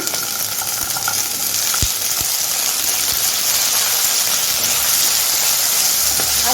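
Potatoes and onions fry in a pan with a constant loud sizzle and hiss, punctuated by a few sharp clicks of a utensil.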